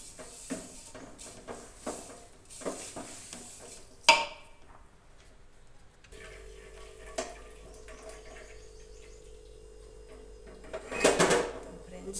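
A spoon scrapes and knocks rhythmically in a pan as a wheat and gram flour laddu mixture is stirred with ghee, with clattering strokes at first, then quieter stretches and a burst of scraping later, while a voice talks quietly.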